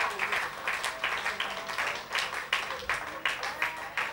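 A church congregation claps in a steady, rhythmic beat throughout, with a faint voice underneath the applause during a French-language service.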